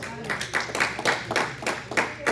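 A church congregation claps together in a quick, regular rhythm of bursts during a Spanish-language sermon, with a voice talking over the clapping.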